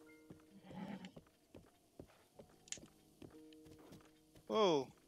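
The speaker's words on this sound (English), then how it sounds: "Whoa, what are you doing, horse?" A horse walks in Zelda Breath of the Wild, with rhythmic hoof clip-clops, game chimes and a short whinny near the end, all fairly quiet under the game's music.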